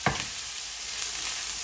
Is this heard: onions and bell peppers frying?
yes